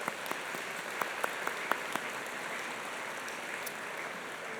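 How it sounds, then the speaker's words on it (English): Applause from an audience at a business awards gala in Halifax, a soft steady wash of many hands clapping at a distance, with a few louder individual claps popping out early on. "So a round of applause for our category partners."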